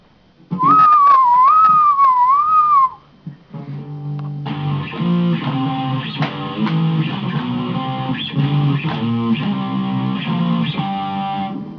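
Guitar strummed using an Xbox controller as a pick: a wavering whistle-like tone comes first, then after a short pause a dense, distorted-sounding run of repeated strums rings out fairly loudly for several seconds.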